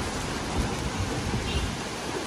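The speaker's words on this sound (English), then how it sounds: "Raining." Steady rain hissing across the whole span, a dense even wash of noise with soft low rumbles underneath and no voices.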